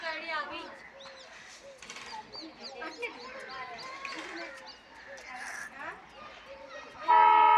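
Jaipur Express passenger train at Sojat Road railway station, with a steady rail rumble under birdsong and chattering voices on the platform, and a loud horn-like tone bursting in at the very end.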